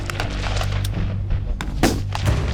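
Rifle fire on a Marine Corps boot camp range during recruit training, heard as a dense run of sharp, overlapping shots that crack continuously through the clip with no talking.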